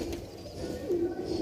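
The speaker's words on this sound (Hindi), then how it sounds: "गर्रे कबूतर हैं दोनों, जीरे गर्रे कबूतर हैं" Jeere garre pigeons give a soft, low coo at close range, a brief rolling call under faint background noise.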